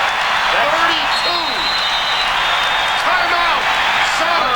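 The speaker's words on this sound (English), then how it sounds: "This crowd is roaring." Basketball arena crowd at a 1990 Suns vs. Sonics game roaring steadily and loudly throughout, with a commentator's voice cutting through above the din.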